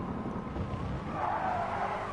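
A race car in GT Sport slides sideways at Interlagos, a steady tire squeal and engine drone running continuously under the surface, moderately faint and unbroken.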